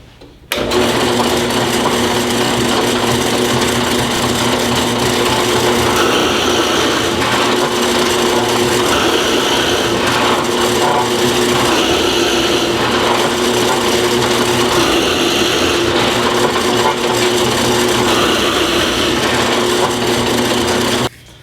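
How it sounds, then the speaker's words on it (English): A drill press with a 1/2 inch brad point bit runs with a steady loud motor whine, grinding into a 2x4 continuously for a long stretch before cutting off. "We'll drill like 5 holes in a row into this standard just 2x4"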